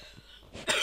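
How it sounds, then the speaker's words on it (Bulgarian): A single sharp cough bursts out near the end, loud and close, after a few moments of quiet breathing-like noise. "Пак ще кашлям."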